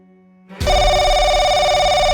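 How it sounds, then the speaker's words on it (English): Telephone suddenly erupting into loud, continuous electronic ringing after a quiet hum, sustained and close. "the phone erupted in a cacophony of sound once more"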